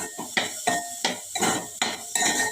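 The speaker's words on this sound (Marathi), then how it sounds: "कांदा लाल होईपर्यंत आपण त्याला परतवूया." Chopped onion sautéed in a pan for a mixed vegetable dish, heard as a rhythmic run of about eight metal spatula scrapes and knocks against the pan over a light sizzle, close and loud, with no talk.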